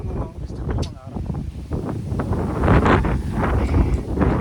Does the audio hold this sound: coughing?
no